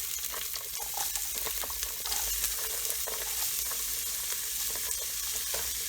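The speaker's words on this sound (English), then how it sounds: "So the oil's hot. Let's add our onions." Onions just added to hot oil fry in a pan with a dense, continuous hiss and crackle, close and steady, and faint stirring clicks scattered throughout, no voices.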